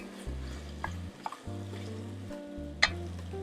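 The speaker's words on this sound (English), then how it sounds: "You just want to saute that tomato paste right in there." Tomato paste sautéing in the bottom of a pan for braised short ribs, a soft steady sizzle with a spatula stirring and scraping, a few light knocks and one sharp tap against the pan.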